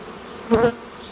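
Honeybees from a colony in a vertical hive give a short, close burst of buzzing that rises briefly over a quiet background hum, with no talk.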